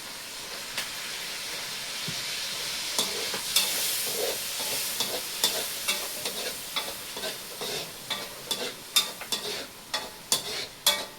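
Pancit stir-frying with soy sauce in a pan, a steady steamy hiss and sizzle with repeated clicking scrapes of a spatula that grow faster and more rhythmic toward the end.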